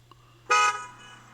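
A car horn in street traffic gives one short, loud honk partway through, over a faint low background hum.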